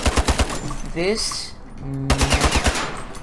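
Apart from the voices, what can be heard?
gunshots from the video game Ironsight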